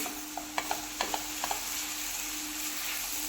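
A grated coconut mixture with milk powder for naral vadi is stirred in a pan, with a soft continuous sizzle and a quick cluster of spatula scrapes and taps early on, then quieter simmering.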